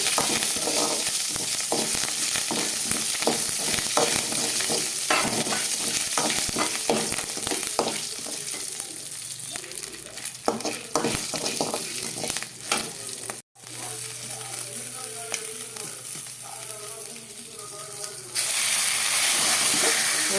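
Black pepper and ginger sautéing in a pan for ven pongal: a continuous hissing sizzle broken by frequent stirring scrapes, close and steady, with a brief drop in the middle.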